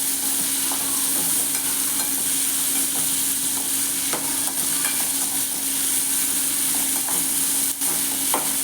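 Dried fish (karuvadu) fries with onion in a pan for karuvadu thokku while being stirred: a steady, close sizzle with occasional scraping strokes throughout, and no talking.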